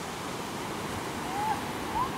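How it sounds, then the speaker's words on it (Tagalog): Big ocean waves surging at a beach in Phuket, a steady rush of surf with two slightly louder swells building near the end, heard alone without talk. "Laki ng alon guys."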